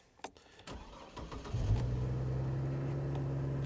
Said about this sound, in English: Cranks right up.